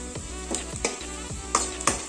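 Onions fry with turmeric in a pan under a steady sizzle, broken by four or five scraping stirs spaced about every third of a second to half second, close and moderately loud, with no talking.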